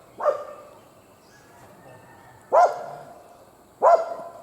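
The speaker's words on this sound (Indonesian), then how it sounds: "Ada anjing lagi menggonggong." A dog barks three times, each bark a short loud burst spaced about a second or more apart, standing out clearly against a quiet background with no one talking.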